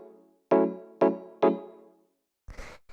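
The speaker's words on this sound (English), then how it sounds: "After that, we have the Rhodes" A Rhodes electric piano plays three evenly spaced, bell-like chords for a deep house track, each one struck and left to decay, then a short soft burst of noise follows.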